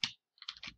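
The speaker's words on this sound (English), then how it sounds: "So I'm using Control V on my keyboard." Keys on a computer keyboard are pressed for a Control V paste, giving one sharp click, a pause, then a quick burst of several close, fairly soft clicks.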